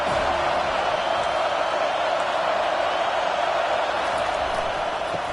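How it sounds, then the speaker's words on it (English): Stadium crowd at a football game swelling in a steady, dense roar on third down as fans get behind the defense, a continuous loud wash of many voices with no break. "Decibels rising as the crowd gets behind this defense on 3rd down."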